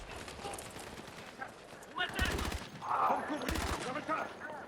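Sniper rifle gunfire in Battlefield 6, two sharp loud shots about a second apart, each a sudden broadband crack over continuous game noise and background rumble.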